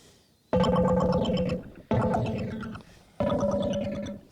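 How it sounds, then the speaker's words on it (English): Synth bass preset in Ableton Live, shaped by Shaper modulation devices, plays three long, buzzy notes that swell and wobble as they decay, separated by short gaps, with no voice. "Let's hear what the bass sounds like."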